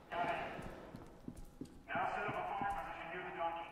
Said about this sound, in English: There's a donkey?